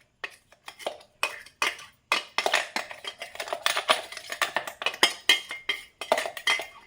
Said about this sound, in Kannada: ಒಂದು ಬಟ್ಲಿಗೆ ತಡ್ಕೋಣ.